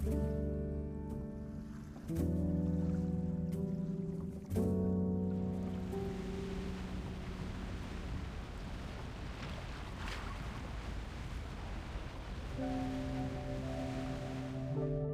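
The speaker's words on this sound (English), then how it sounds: "It's the waves. They're just too strong." Ocean waves in a romance video game, a steady wash of surf and wind that rolls on continuously beneath sustained musical tones that fade in and out.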